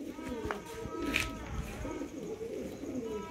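Pigeons coo softly in a loft kept for breeding pairs, a steady murmur of low calls with a brief higher chirp, and faint voices in the background.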